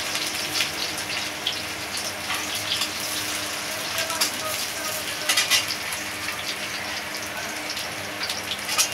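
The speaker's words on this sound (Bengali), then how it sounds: "মাছের ঝোলের জন্য আমি আলুটা ভেজে নিলাম" Potato pieces frying in oil for a Bengali fish curry give a steady, fairly quiet sizzle and crackle with occasional brighter pops and faint kitchen clatter, no talking.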